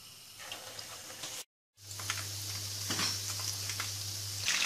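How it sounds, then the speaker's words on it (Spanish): Arancini frying in very hot oil in a pan, a steady crackling sizzle with a brief silent gap before it resumes more fully, close and alone with no voices. "Al estar muy caliente el aceite, freímos los arancini por ambos lados"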